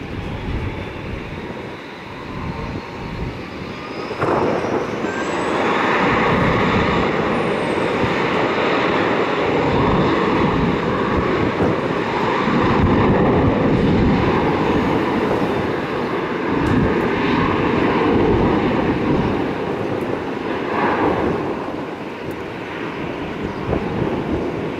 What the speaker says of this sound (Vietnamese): Và bây giờ thì chiếc máy bay Airbus A321 được lệnh cất cánh.